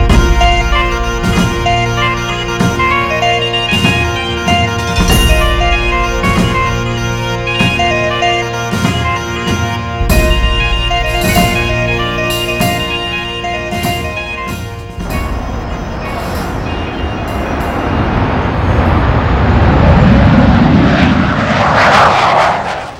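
An LCA light combat aircraft engine roars loud and steady for most of the span, then gives way to a broader, rushing jet wash as the aircraft passes.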